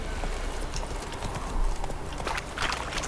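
Roach, the horse in The Witcher 3, gallops with steady, rapid clip-clop hoofbeats, fairly close and moderately loud against a dense outdoor game background.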